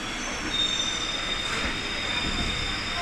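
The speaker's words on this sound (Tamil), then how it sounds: "ஸோ ட்ரெயின் எடுத்துட்டாங்க." An EMU local train pulls out of Chennai Beach station, wheels squealing in a high sustained whine over a dense rumble of rolling carriages, close and continuous, with faint voices underneath.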